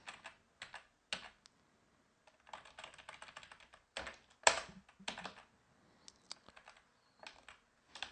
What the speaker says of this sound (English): So if I type in the password.